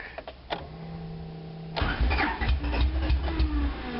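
An Acura four-cylinder engine with swapped plug wires cranks, then catches and runs rough and uneven, loud and close, with a lumpy, stumbling rhythm after a brief quiet hum.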